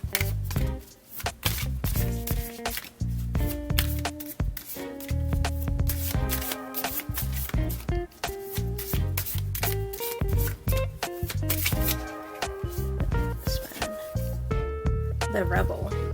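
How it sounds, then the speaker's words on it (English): Britney Spears Oracle tarot cards are shuffled by hand in a rapid run of crisp riffling clicks and slaps, close and steady, with tonal music playing underneath. "we are going to be shuffling from the Britney Spears Oracle deck"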